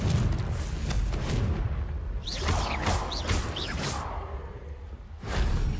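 The Confringo fire spell cast in Hogwarts Legacy, heard as several whooshing blasts with booming impacts and rising swishes, loud and close, set in a busy game soundscape with a low rumble beneath.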